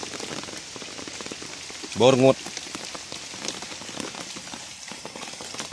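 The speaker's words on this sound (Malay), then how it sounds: "Hari pun hujan." Heavy rain pours down outdoors in a steady loud hiss, briefly overlapped by a short spoken word.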